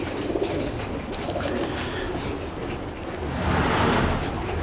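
A Teddy pigeon coos softly and repeatedly, close by, over a busy low background rumble.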